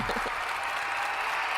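A crowd keeps up steady, dense applause after a novelty rock song pick, an even wash of clapping at constant loudness throughout, with a brief low thump at the very start.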